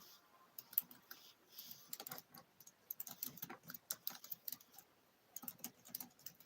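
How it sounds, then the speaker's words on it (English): Someone types on a computer keyboard, close and quiet. Irregular bursts of crisp key clicks are broken by short pauses, with no voices. "I am retyping in my questions so I can get those answers that I want to read to you guys"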